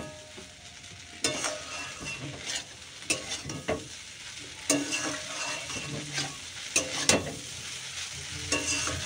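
Pasta with Maggi masala is stirred in a sizzling pan, a spoon scraping and clacking in irregular strokes over a steady frying hiss, close and moderately loud.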